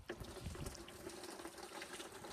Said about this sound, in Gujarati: હમણાં ઉપર પાણી આવી જશે.